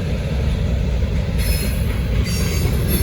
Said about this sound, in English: All right, here comes the DPU. I'm starting to hear it.